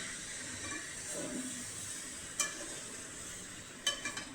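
Tomatoes sautéing for tomato thokku in a pan, a quiet steady sizzle with soft stirring and a couple of brief spoon clicks, fairly faint and without voices.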